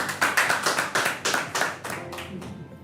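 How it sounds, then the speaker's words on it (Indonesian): An audience at a Jakarta sports talk show about jiu-jitsu claps for a guest, a short burst of fairly sparse, rhythmic hand claps that thins out and fades within about three seconds. "Kita beri tepuk tangan dulu buat Mas Didi."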